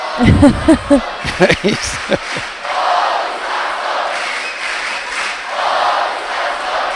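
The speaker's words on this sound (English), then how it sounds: "If you hear the whole crowd cheering for your name, that doesn't happen so often." A large judo arena crowd at the Tel Aviv Grand Prix roars for Sasson, opening with loud shouts and rhythmic chanting bursts before settling into a sustained, steady wash of cheering.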